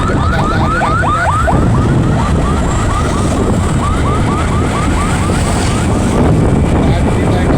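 Wailing ambulance siren with fast, repeating rising whoops over loud road traffic during a transport strike, close and dominant throughout, with voices murmuring underneath.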